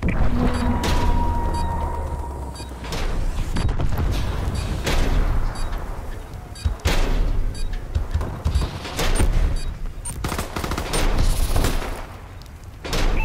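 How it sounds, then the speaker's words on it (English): Missile strikes and gunfire in the Call of Duty: Advanced Warfare video game, with repeated loud booms, sharp bursts and mechanical clatter in an uneven, dense barrage that runs throughout. "Enemy missile strikes."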